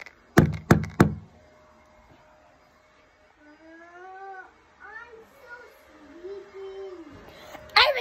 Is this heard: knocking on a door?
yes